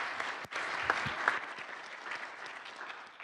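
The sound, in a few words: round of applause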